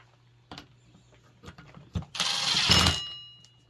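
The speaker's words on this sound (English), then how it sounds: "We'll run it down with the impact." An impact wrench runs a nut down against a lock washer on a Liberty three-point wood chipper: a few short close clicks, then one loud, roughly second-long rattling burst that cuts off.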